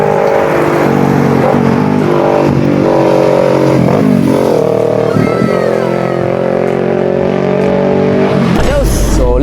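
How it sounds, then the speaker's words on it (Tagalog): A loud Kawasaki Ninja 650 motorcycle passes along a roadside between Diadi and Cordon, its engine roaring close and continuous, with pitch swelling and dipping as it revs through the gears. "May maingay na naman na motor kaya binidyohan ko na naman."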